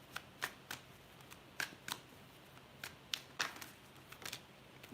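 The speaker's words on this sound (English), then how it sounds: "Your cards are hard to shuffle" Tarot cards being shuffled in quick, uneven bursts of crisp riffling and slapping, close and fairly quiet, with short pauses between runs.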